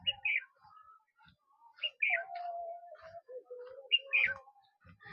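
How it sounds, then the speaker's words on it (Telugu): Several birds chirp and whistle intermittently, fairly faint, with short tweets and a few longer whistled notes spread across the quiet. "చూసారా సౌండ్ పక్షులు ఎలా వస్తున్నాయో వినిపిస్తున్నాయా మీకు"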